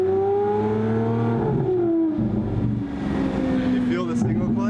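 Lamborghini Aventador SV V12 engine idling and rumbling steadily with a low droning tone that shifts slightly in pitch, heard from inside the car while people talk over it.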